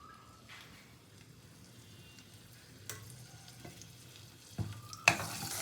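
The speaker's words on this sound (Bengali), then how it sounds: "তো আলুগুলোকে একটু খুব ভালো করে ভেজে নেবো আমি" Potatoes fry in oil with a little turmeric, giving a faint, steady sizzle that runs throughout, with a few soft utensil clinks and a louder burst of crackle near the end.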